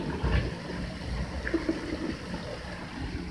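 Water splashing and trickling as it is poured out of a bird bath, an uneven liquid stream with small drips at a moderate, close distance.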